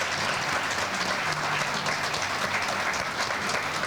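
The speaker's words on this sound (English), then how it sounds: "so let's give them a round of applause." Audience at a grand opening and ribbon-cutting ceremony applauds in a thick, continuous roar of clapping hands, loud and unbroken from start to finish.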